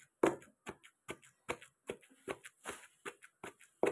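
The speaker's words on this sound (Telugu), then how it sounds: "చింతకాయ పచ్చడి వేసి పెడదామని దంచుతున్నా" Tamarind chutney being pounded by hand in a mortar, a steady series of sharp, close thuds at an uneven rhythm, about a dozen strikes with short gaps, no talk.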